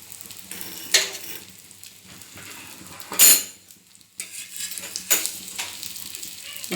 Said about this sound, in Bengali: দুই পিঠই ভালো করে ভাজতে হবে।